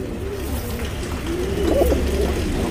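Tournament pigeons of an old lineage in a Bangalore loft coo nearby, a few low rolling coos rising and falling over steady background hum, with no talk.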